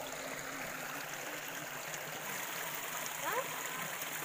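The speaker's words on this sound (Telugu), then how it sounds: "చూడండి వాటర్ సౌండ్ ఎంత బాగా వినిపిస్తుందో" A waterfall stream flows steadily at Pull Chetlu temple in Siddavatam, Cuddapah district, a constant, even rushing and gurgling of water close by with no breaks.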